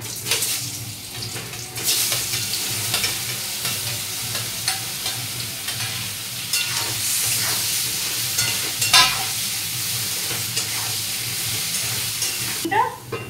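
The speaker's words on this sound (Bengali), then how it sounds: "এবার তেল গরম হয়ে গেছে, এবারে আমি বেগুনগুলো তুলে দেবো" Washed, drained eggplant pieces frying in hot oil for neem-eggplant, with a continuous loud sizzle and occasional stirring clatter, close by, no talking.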